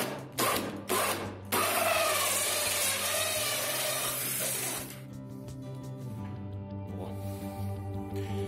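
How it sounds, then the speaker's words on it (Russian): A drill bores a hole in a wall finishing panel for a light fixture, opening with short bursts and then a sustained whirring grind that eases into a lower, steadier spinning tone. "Делаем отверстие для светильника."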